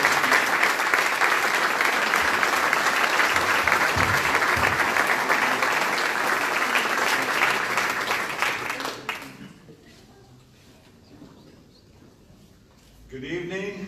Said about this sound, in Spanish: lo recibimos a Darrow con un aplauso de bienvenida